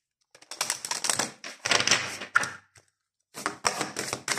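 Tarot cards being shuffled and laid out during a reading, heard as close, dry bursts of riffling and flicking in quick clusters with short pauses between them.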